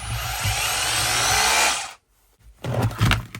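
An ALDI Ferrex 20V cordless hammer drill spins in reverse near a breeze block, giving a close, steady high motor whine that stops abruptly, followed by a few clunks and handling knocks.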